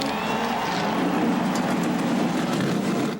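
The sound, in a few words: race car engines starting at Daytona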